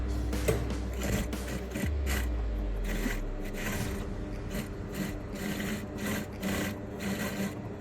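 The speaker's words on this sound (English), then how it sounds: "Then I'll go ahead and sew." A sewing machine stitches the center front and side front pieces of a padded bustier, running steadily and close with a continuous mechanical rhythm and brief pauses.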